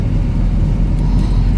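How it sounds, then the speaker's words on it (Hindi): Dense traffic noise on a Ludhiana road, a steady low rumble of engines close by with no distinct events. "यहाँ की लुधियाना की ट्रैफिक भाई साहब बहुत ही ज़्यादा ख़तरनाक है"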